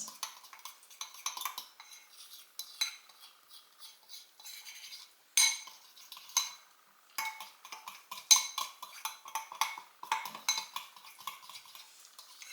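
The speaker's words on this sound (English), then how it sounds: "I use a fork because clumps. Mixing until it has a nice battery consistency with no lumps." A fork whisking batter in a bowl, quick light metallic clinks and scrapes in uneven bursts with brief pauses, close but fairly soft, no speech.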